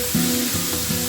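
Onions and chili sautéing in hot oil for a Kerala-style prawn roast, a steady close sizzle with brief bursts of louder crackle and no voices.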